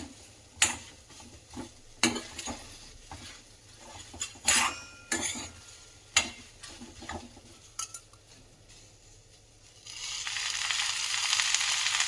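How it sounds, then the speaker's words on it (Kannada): Chopped okra fried and stirred in a pan, with scattered clinks and scrapes of a utensil against metal over a faint sizzle, which swells into a steadier hiss near the end. "ಬೆಂಡೆಕಾಯಿಯನ್ನು ಚೆನ್ನಾಗಿ ತೊಳೆದುಬಿಟ್ಟು ಒರೆಸಿ ಈ ಥರ ಹೆಚ್ಚಿಟ್ಕೊಂಡ್ಬಿಟ್ಟಿದ್ದೀನಿ ಈಗ ನಾನು ಫ್ರೈ ಮಾಡ್ಕೊಳ್ತಿದ್ದೀನಿ"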